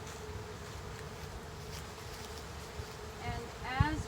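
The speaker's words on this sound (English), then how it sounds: "we're gonna brush the bees out of the way so we don't squish them." A steady, dense hum of many bees buzzing close by around a hive, continuous throughout, with a few louder passes near the end.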